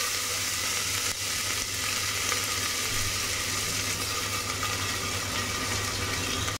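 Mustard seeds and ground green chilli fry in hot oil, producing a dense, steady, loud sizzling hiss with a low background hum, close and unbroken until it cuts off at the end.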